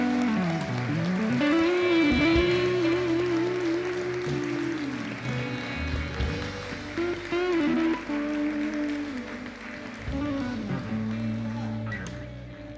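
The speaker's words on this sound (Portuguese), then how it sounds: "Aplauda Jesus, por favor," A church congregation claps in a dense, sustained wash of applause that stays strong throughout, with a preacher's amplified voice rising over it in long, sung-out phrases.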